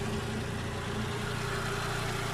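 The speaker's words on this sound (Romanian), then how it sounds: "Deci, motorul merge mai bine ca înainte." Steady low hum of a VW Passat B5.5 with the 1.6 ALZ engine idling after a home timing belt replacement, even and unbroken, moderately quiet, with no voices.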